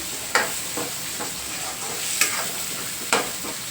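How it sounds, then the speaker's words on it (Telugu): Tomato pieces frying in oil in a pan while cooking an Andhra-style prawn gongura curry, giving a steady close sizzle broken by three sharp stirring scrapes. "ఇవి కూడా ఈ ఆయిల్లోనే వేసి బాగా మెత్తగా అయ్యేంత వరకు ఫ్రై చేసేసుకోవాలి టమాటా ముక్కల్ని కూడా"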